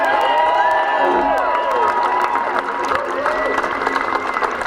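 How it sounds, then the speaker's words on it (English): A crowd cheers, claps and whoops loudly for Senator Bob Casey at a political event. The burst is strongest at first and then eases a little, with shouts rising above the clapping. "how about another round of applause for Senator Bob Casey?"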